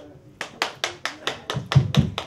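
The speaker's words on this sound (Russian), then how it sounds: "Одинокие аплодисменты." A single person clapping alone at a book presentation in a bookshop, about nine slow, evenly spaced claps, close and distinct in a quiet room.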